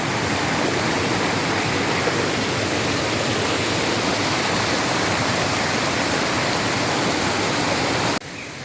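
Plenty of flowing water rushes in a stream or waterfall, a loud, unbroken broadband roar that holds steady throughout before dropping off abruptly at the very end.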